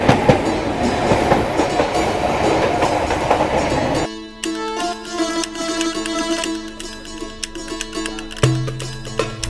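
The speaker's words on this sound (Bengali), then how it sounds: "ট্রেন তো আমাদের ছেড়ে দিয়েছে অলরেডি" A night train pulling out of Sealdah station roars with dense rumble for the first few seconds, then gives way to close, steady clickety-clack of wagons on the rails, with sharp metallic ticks and a low drone near the end.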